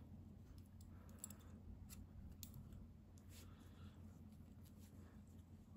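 Scissors snip through crochet yarn, giving faint, sharp little clicks and snips scattered over a quiet background hum, close but soft.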